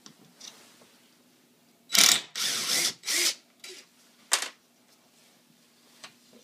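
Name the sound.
undoing screws on a clamp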